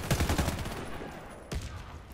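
Gunfire in the shooter game Warface comes as a quick rattling burst of shots, a short lull, then another sharp crack, moderately loud with faint background game noise.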